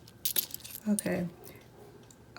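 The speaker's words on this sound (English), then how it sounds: "Obviously, these are not coins. These are actually washers." Small metal hardware-store washers jangle and clink together in a short burst of bright, close metallic rattling, with a couple of louder clatters before settling into quiet.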